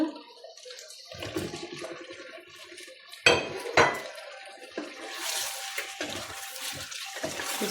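Meat goes into a metal cooking pot with clattering knocks, scrapes and a couple of sharp bangs of utensils against the pot, followed by a hissing, sizzling wash of sound toward the end.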